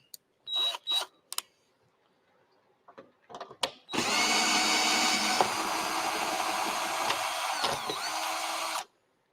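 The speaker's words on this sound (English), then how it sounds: "I'm going to be using my electric screwdriver to undo the bolts" An electric screwdriver undoes bolts under a model railway baseboard; a few short whirring bursts come first, then one long steady whine for about five seconds, close and fairly loud, with no talk.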